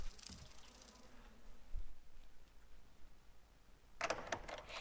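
Bees buzz in the Resident Evil HD Remaster video game, a steady insect drone under quiet game ambience that ends in a louder, brighter burst near the close.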